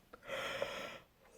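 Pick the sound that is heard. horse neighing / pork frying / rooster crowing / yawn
yawn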